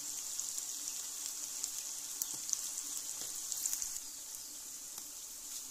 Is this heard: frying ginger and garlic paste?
yes